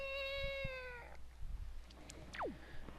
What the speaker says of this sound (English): she'll hear a sound and then Link will make a meowing noise